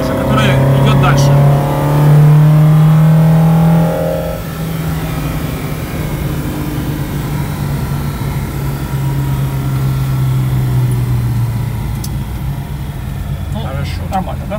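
A Lada fitted with four carburetors revs loudly and rises in pitch for the first few seconds, then settles to a steady rough idle that continues under faint background noise.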